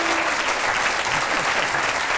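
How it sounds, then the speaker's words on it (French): A studio audience on a French television talk show bursts into loud, sustained applause, a thick wash of clapping that holds steady for a couple of seconds. "On applaudit Jean-Bernard et Elsa Taillère pour leur disque de la semaine."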